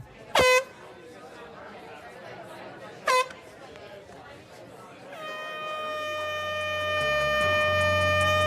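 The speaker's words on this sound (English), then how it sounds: "So we had this foghorn because it was the night of one of the basketball matches." A foghorn sounds on the night of a basketball match: two short loud blasts, then a long sustained tone that swells and holds to the end over a steady crowd murmur.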